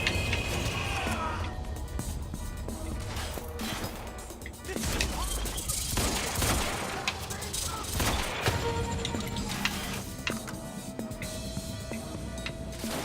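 Gunfire erupts in a Quantum Break firefight, dense overlapping shots and crashes sustained throughout under game music and shouted voices.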